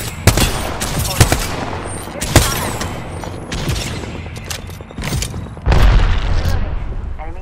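Gunfire in Apex Legends: loud bursts of rapid shots and heavy booming impacts, spaced across the stretch, with a denser rumbling burst near the end and voice callouts over the top.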